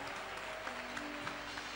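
A church congregation gathered for morning worship applauds and acclaims, a faint, steady wash of clapping with a sustained tone humming underneath.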